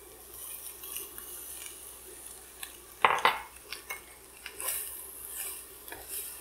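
Broccoli tossed into a pan of cooking sausage lands with a sharp clatter of utensil against metal, followed by lighter scraping and clinks over a low background hiss, close and alone without talk.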